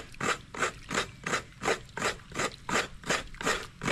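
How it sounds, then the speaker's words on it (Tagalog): Coconut meat is grated on a coconut grater in regular, rhythmic rasping strokes, about three per second, close and steady with no talking. "nagkakayod po ng niyog."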